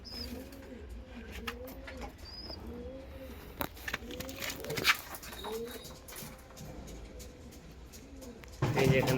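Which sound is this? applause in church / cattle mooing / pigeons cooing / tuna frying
pigeons cooing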